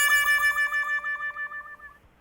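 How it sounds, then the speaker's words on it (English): A descending brassy wah-wah tone with a rapid wobble, sinking in pitch and fading out at the end, like a comic sad trombone effect. "that's the sound of the trombone doing what I think is traditionally called the sad trombone"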